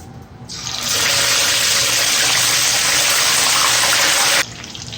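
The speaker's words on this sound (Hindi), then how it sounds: "मैं इसमें थोड़ा इसको फ्राई करूँगी" Fish, unseasoned by masala, drops into hot oil and sizzles in a loud, steady, broadband hiss that starts abruptly, holds for about four seconds, then cuts off.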